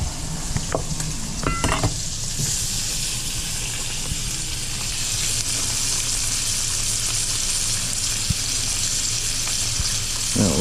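Rainbow trout fries in butter in a pan with a steady, loud sizzle close up, a few utensil scrapes and taps early on, continuous crackling throughout, no talking.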